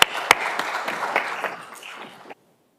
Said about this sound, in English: So let's give a round of applause for this panel.